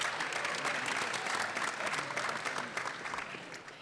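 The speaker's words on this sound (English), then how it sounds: "Round of applause." A room full of people at a business school pitch competition breaks into dense, sustained applause, loud and even throughout before easing off at the end.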